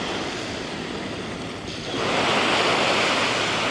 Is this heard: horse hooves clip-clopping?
no